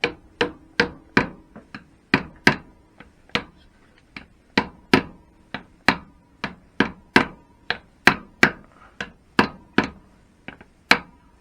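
Steady tapping on a Triumph Bonneville primary part in a workshop, about thirty sharp metallic knocks in an uneven rhythm over several seconds, close and clear with no talking.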